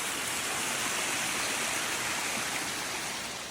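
A waterfall in Zion National Park, near the Subway, rushes as a steady, dense wash of falling water that holds even throughout, with no voices.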